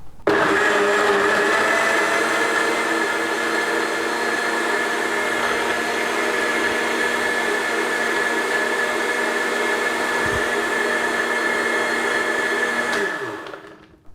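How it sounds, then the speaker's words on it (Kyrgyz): A blender whirs steadily at high speed while pureeing a mix of fruits, running loud and continuous for about thirteen seconds before spinning down and stopping. "Салдыктагы азыр через блендер өткөрөбүз, блендер аркылуу."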